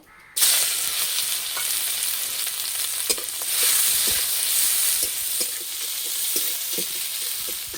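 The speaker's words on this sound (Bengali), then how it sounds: "এই তেলে পেঁয়াজ দিয়ে দেব।" Onions hit hot oil with a sudden loud sizzle that continues steadily, with occasional clicks of stirring close by.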